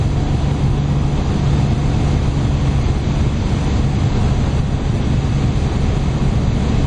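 A Lotus Omega cruises at 220 km/h in sixth gear at 2600 rpm, heard from inside as a steady, loud roar of engine drone, wind and road noise that never changes.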